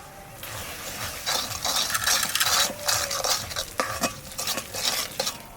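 Cooked lentil dal being mashed and stirred in a metal pot, a steady run of scraping, squelching strokes with soft clinks of the spoon against the pot, close and fairly loud with no talk.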